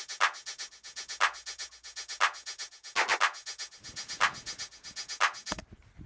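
Hi-hat pattern programmed in Ableton for a future bass track, with an automated snap heap effect on it. Crisp, evenly spaced ticks run in a steady rhythm, with louder accents about once a second, then an abrupt low thump near the end.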